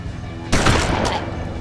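Gunfire in the tactical video game Hard West: a sudden loud burst of shots with a second crack about half a second later, trailing into a sustained noisy rumble over a steady background hum.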